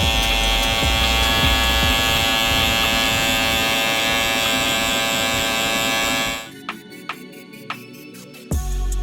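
A Stylecraft Saber hair clipper buzzes steadily and loudly during a barber's buzz cut, a close, even electric drone that cuts off after about six seconds, followed by a few sharp clicks and taps.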